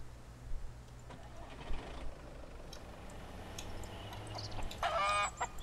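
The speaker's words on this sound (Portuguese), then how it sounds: "matei a galinha" A chicken clucks in the survival video game Mist Survival, giving faint scattered clucks over low ambient rumble, ending in a louder flurry of squawks.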